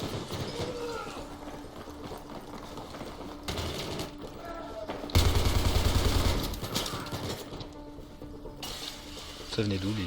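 Bursts of automatic gunfire and explosions in a Battlefield 3 match crackle at modest volume in scattered volleys, with players chatting in French beneath them.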